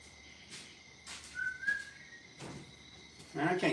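A man whistles a few short, wavering tones in a garage where work on a 1963 Impala is under way, faint and intermittent with quiet gaps between, and a brief rustling burst at the end.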